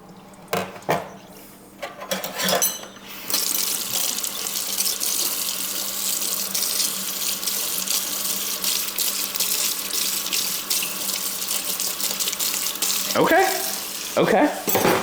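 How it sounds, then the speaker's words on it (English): Dishes being washed at a kitchen sink under a running tap, a continuous rush of water with clinks and clatter of dishware at the start and end, fairly loud and close. "sorry, I'm doing the dishes. I hope if it's too loud, just let me know"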